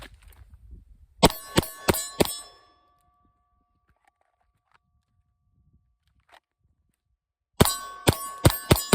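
Bullets strike steel shooting targets, sending out quick bursts of four bright metallic clangs that ring on briefly, two separate volleys with near silence between them.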